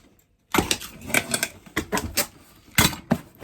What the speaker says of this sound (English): tape it up